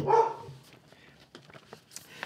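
A dog barks close and loud in a quick burst at the very start, then only faint scattered sounds follow in a quiet room.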